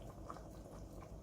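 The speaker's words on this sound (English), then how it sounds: "This is already coming to a boil" Beef bouillon cubes in hot water on the stove come to a boil, giving a soft, steady bubbling and simmering that is faint and continuous, with no talk.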